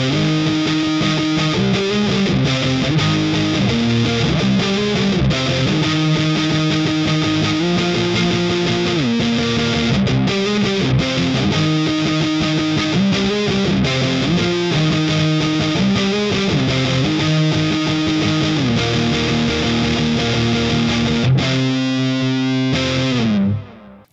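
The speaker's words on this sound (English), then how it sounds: "We're going to go for the plate reverb and the tape delay." Distorted electric guitar through a Mooer Minimax M1 modeller with plate reverb and tape delay, a sustained lead line with repeating echoes and a shimmering reverb tail, loud and continuous, ending in a fading decay.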